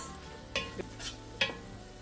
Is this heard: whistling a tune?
no